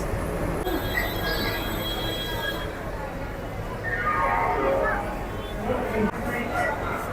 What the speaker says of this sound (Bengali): এই হচ্ছে সেই হাওড়া কালকা নেতাজি এক্সপ্রেস